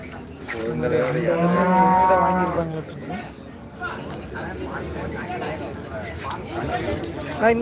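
Buffaloes and cattle moo loudly at the Karungalpalayam livestock market, one long drawn-out low call rising over a steady hubbub of crowd chatter and voices.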